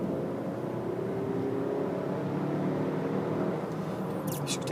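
Inside a 2018 Volvo XC60 AWD SUV merging into traffic, a steady low engine drone and road rumble fills the cabin at moderate level, continuous and even, with a brief faint rustle near the end.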